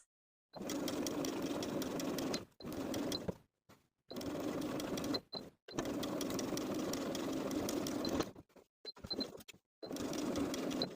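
A sewing machine runs in several steady bursts of stitching, top stitching a garment pocket, each run separated by short pauses with faint clicks between.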